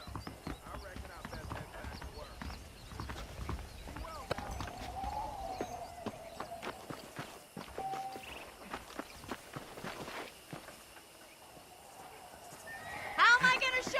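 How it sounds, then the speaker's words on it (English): Saddled horses on a ranch in the Western video game Red Dead Redemption, with repeated hoof clip-clops and a neigh or whinny under steady game ambience, a louder burst near the end, with talk present. "The horses are saddled up over here."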